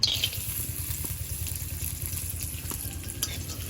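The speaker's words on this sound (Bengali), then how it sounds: "কাজু আর কিশমিশ" Cashews and raisins frying lightly in a little oil in a wok (kadai) for cucumber chutney: a steady, moderate sizzle with soft stirring scrapes and no speech.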